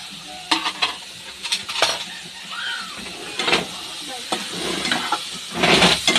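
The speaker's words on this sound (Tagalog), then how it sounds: "ilalagay ko na rin pala yung ating talong." Eggplant dropped into a hot pan for binagoongang baboy, frying with a steady sizzle under repeated scraping and stirring clatter of a utensil against the pan.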